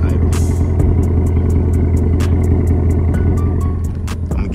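A 2021 Ford Mustang GT with resonators removed and an H-pipe exhaust idles close by, a loud, deep, steady burbling rumble with faint ticking on top throughout.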